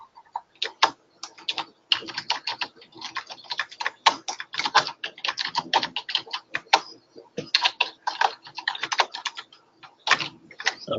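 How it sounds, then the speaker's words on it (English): A computer keyboard clatters in rapid, dense bursts of keystrokes with short pauses between runs, close and fairly loud, with no talking over it. "He's typing me a question."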